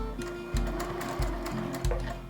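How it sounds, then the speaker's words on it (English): Sewing machine stitching through a thick fabric hip-hugger pouch, a steady close mechanical whir with heavier rhythmic thumps of the needle roughly every half second, running alone without talk. "if your machine doesn't like to sew through thick things"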